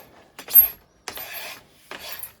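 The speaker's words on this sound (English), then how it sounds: "is to kind of just scrape it off" Glazing tape residue being scraped off insulated glass in three separate rough, raspy strokes, close and moderately loud, with short silent gaps between them.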